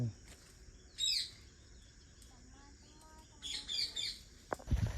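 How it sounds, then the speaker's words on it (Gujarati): A parrot calls outdoors near a farm with trees, giving a few short, shrill squawking bursts separated by quieter stretches of background ambience. "પોપટ બોલે છે"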